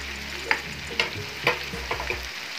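Garlic ginger paste frying with chicken in a hot pan, a steady close sizzle with regular stirring scrapes about twice a second.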